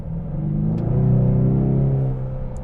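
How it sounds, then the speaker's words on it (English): A 2024 Ford Mustang EcoBoost with an automatic transmission accelerates hard, its engine rising into a loud, close droning rumble that swells and then eases back as the gearbox shifts down, heard from inside the car. "Every time that you put your foot down and demand a burst of acceleration like I'm about to right now"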